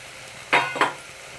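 Mushrooms being stir-fried in a pan while cooking mushroom pulao: two quick, close scraping stirs with a brief sizzle over a quiet kitchen background.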